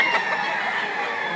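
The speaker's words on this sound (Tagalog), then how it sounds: "Napakagandang manok po." Roosters and hens of fighting-cock stock at a gamefowl market in Lipa, Batangas crow and cluck in a dense, continuous chorus of overlapping calls, loud and close against a busy crowded background.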